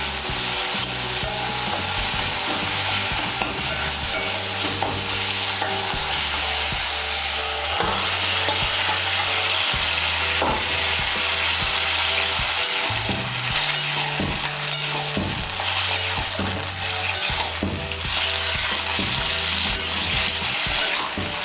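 Bottle gourd and fish head are stir-fried with a green-chili spice paste, giving a dense, continuous sizzle with repeated scraping and clattering stirs of the spoon against the pan, close and loud.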